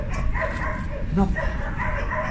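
A Belgian Malinois guard dog gives short barks and yips close by, mixed with someone talking over it.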